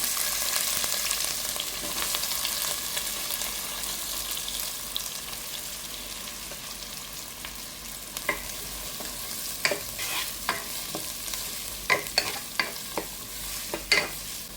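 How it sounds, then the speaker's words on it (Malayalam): Cumin, chopped onion, green chilli and curry leaves fry in hot oil in a pan for an okra dish, with a steady sizzle and a few sharp scraping stirs toward the end and no talk. "ഇനി ഇതിലേക്ക് നമുക്ക് അരിഞ്ഞു വെച്ചിരിക്കുന്ന ഉള്ളി പച്ചമുളക് കറിവേപ്പില എല്ലാം കൂട്ട് ഇട്ട് കൊടുക്കാം"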